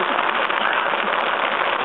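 Hail falling outside and pelting a tarp over a campsite with a fire, a dense steady crackling patter that stays loud and unbroken throughout.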